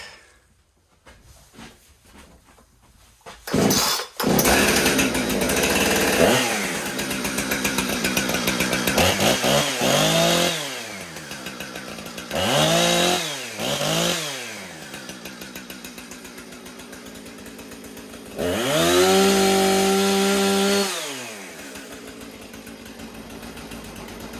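A Husqvarna 455 Rancher chainsaw engine, running rough, sputters, then starts and runs loudly, revving up and down in repeated bursts before settling into a steadier idle.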